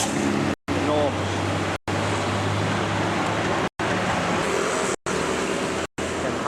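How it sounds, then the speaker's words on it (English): Loud, constant street traffic roar in an Indonesian city, dense engine noise and passing vehicles with brief cut-outs, someone talking over it. "Can hardly speak because of the traffic noise."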